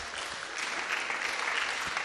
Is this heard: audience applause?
yes